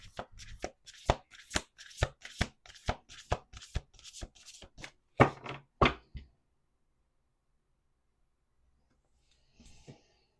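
A deck of reading cards shuffled by hand, a quick series of close, sharp taps and riffles ending in two heavier flourishes, then near silence with a faint rustle at the end.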